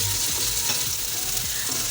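Garlic and ginger paste hitting hot masala in a pan for dhaba-style kadhi pakora, with a loud, continuous close-up sizzle and low stirring rumbles throughout and no speech.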